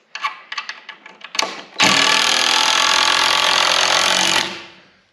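A power driver sets a screw into wooden wall blocking in a woodshop partition, with a few short clicks and taps, then one loud continuous whirring drive of about three seconds before the motor spins down.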